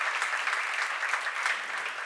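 A congregation at a church seminar breaks into steady applause, a dense even wash of clapping throughout, ending with a brief sharp sound at the close.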